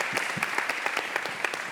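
Audience applause at a public event for a New York City planning chair, a dense patter of many hands clapping at moderate distance, steady and continuous throughout the short stretch.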